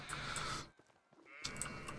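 Sheep in the farming game Medieval Dynasty bleat twice, close and clear, with a short quiet gap between the two calls.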